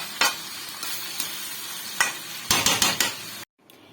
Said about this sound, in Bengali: আজকে মাংসের পিসগুলো একটু বড় বড়, একটু ঢেকে ঢেকে কষাই করতে হবে